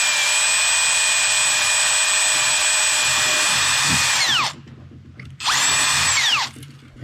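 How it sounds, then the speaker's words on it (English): A power drill pre-drills holes about three-quarters of an inch deep in a wooden 6-quart berry basket, with a long steady high whine that winds down, then a second shorter burst. Close and loud. "I'm going to go ahead and pre-drill"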